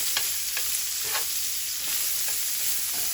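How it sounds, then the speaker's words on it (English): Onions stirred in a frying pan sizzle steadily, with a constant hiss and repeated scrapes of the spoon as they are moved around, close by and with no talking. "I'm going to add these onions and stir them around for a couple of minutes just to get them soft and translucent"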